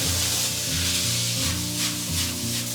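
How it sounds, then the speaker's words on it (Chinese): River shrimp stir-frying in a hot oiled pan with pork belly and aromatics, giving a steady close sizzle and hiss with rhythmic scraping and stirring throughout. "接着我们下入河虾，给它爆炒个1分钟"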